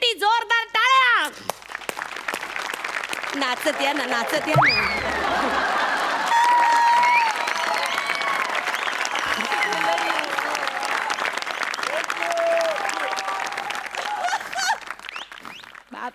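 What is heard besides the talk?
audience applause for a performer on stage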